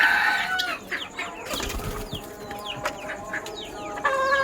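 Three roosters and a hen inside a small coop give repeated short clucks and squawks close by, with brief wing flaps and shuffling between calls.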